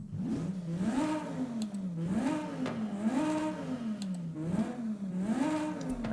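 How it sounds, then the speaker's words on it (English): A V10 engine in a car-building video game revs repeatedly in a steady rising-and-falling cycle, loud and close, with a whiny harmonic tone and no talking over it. "V10 sounds decent."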